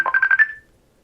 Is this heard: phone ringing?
yes